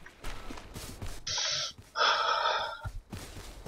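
A character in the survival game H1Z1 gasps and breathes heavily, two long, loud, rasping breaths in and out, close and prominent with no talk over them.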